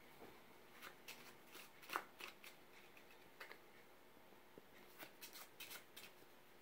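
Playing cards are handled and shuffled in a quiet room, giving soft scattered snaps and slides in small clusters, faint and close, without voices.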